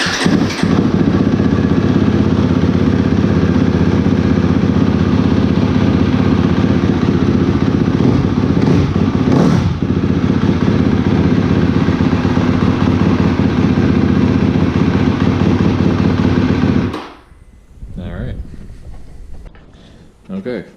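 KTM motorcycle with a full exhaust and a new Vortex ECU runs loud and close, a steady rough droning idle that suddenly cuts off, followed by quiet handling noises.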